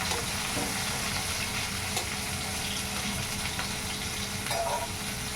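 Pointed gourd in a yogurt curry sizzles in a covered pan while being stirred, giving a continuous close, loud frying hiss with faint scraping stirs and no talking.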